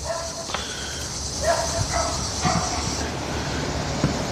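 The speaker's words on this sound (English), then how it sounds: "You hear those other doggos barking" Several dogs bark in the distance, with scattered faint yelps over steady background noise and no nearby voices.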